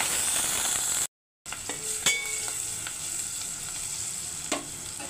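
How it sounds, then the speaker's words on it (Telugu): Fenugreek leaves frying in oil with fenugreek seeds, cumin, turmeric and green chili, a steady close sizzle with a few sharp stirring clicks and a brief dropout near the start. "మెంతికూర అంతా ఆయిల్లోనే వేపుకోవాలి"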